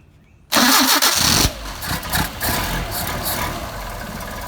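A cold Solex moped engine starts with a sudden loud cranking burst, then catches and settles into a steady, slightly uneven idle close by.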